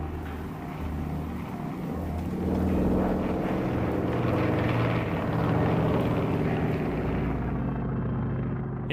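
A Japanese attack aircraft from the carrier Hiryu flies past in a war documentary, its engine a deep, droning rumble that swells in the middle and fades away toward the end.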